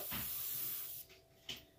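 An airbrush laying down soft paint shading gives off a close, breathy hiss of spray that runs steadily, drops away, then returns in a short puff.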